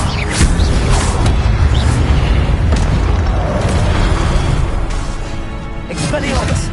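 Fiery Confringo spell blasts in Hogwarts Legacy, loud booming explosions with rumbling bursts and whooshes that run on continuously through the scene.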